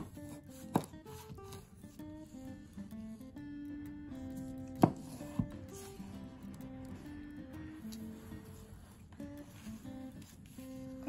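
A knife cuts through a halved blood orange on a cutting board, giving a few sharp knocks against the board amid soft juicy squishing and faint background music.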